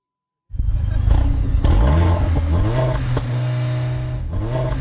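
A V8 4000cc twin-turbo sports car engine fires up after a moment of silence, then revs hard in several rising bursts before settling into a loud, deep rumbling idle up close.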